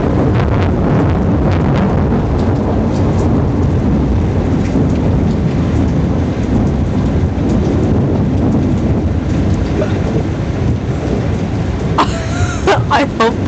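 A thunderstorm with steady heavy rain and rumbling thunder fills the scene throughout, loud and continuous, with a brief sharper crackle near the end; no one speaks.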